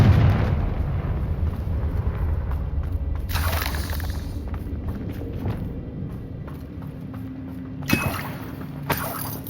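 A Confringo fire spell in Hogwarts Legacy bursts with sharp blasts over a rumbling, crackling battle bed, with two distinct bangs near the end.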